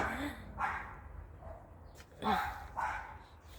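A dog gives a few short barks and yips, close by, separated by brief pauses.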